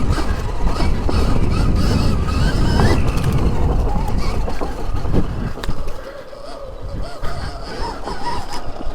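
A Stark Varg electric motocross bike's tire clawing and digging into dirt on a trail, a loud, close, rough churning rumble with scattered gritty crackles that eases off partway through as the bike slows.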